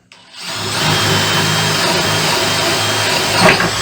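Dewalt DCD709 compact cordless hammer drill boring with a 1/2 inch reduced-shank twist bit: the motor spins up quickly and then runs at a loud, steady, close whine, with a slight surge near the end and no speech.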